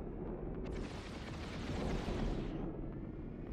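Heavy gunfire and explosions in the online shooter Planetside 2, a dense continuous barrage of booming shots and blasts that stays loud throughout, with no talk over it.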